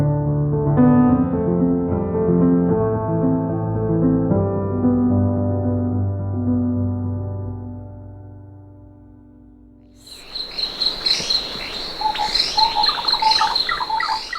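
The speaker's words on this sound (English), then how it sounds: "What you just heard was an audio recording capturing the song of the yellow-crested helmetshrike." Song of the yellow-crested helmetshrike, a rare African bird: a run of clear, high chirps and whistled phrases, fairly close and loud, following a sustained musical passage. No one speaks.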